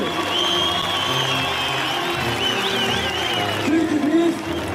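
Crowd at a political rally applauding steadily, with high warbling cries and cheering rising over the clapping before a louder burst near the end.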